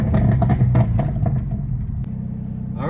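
A car fitted with a catless downpipe accelerates hard, its loud, close engine giving a deep, rough rumble that rises briefly and then eases.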